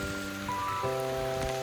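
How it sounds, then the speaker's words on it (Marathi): Heavy rain pours down outdoors as a steady, dense hiss that fills the whole moment, with a sustained droning tone running underneath and no voices. "आणि एवढा पाऊस जास्त चालू आहे"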